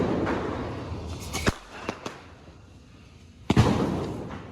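A Diwali bidi bomb firecracker goes off in two sharp, loud bangs a couple of seconds apart, with a couple of smaller pops in between, set against a background of outdoor noise.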